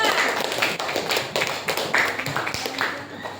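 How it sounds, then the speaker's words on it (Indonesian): A classroom full of students clapping, a dense patter of many hands continuing steadily throughout, fairly close. "Silakan kasih tepuk tangan dulu untuk kelompok 5."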